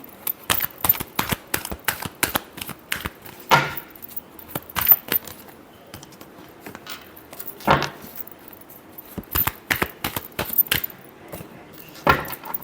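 Tarot cards are shuffled by hand close up, giving a long series of crisp snaps and papery riffles in uneven bursts with short pauses between them. No one speaks.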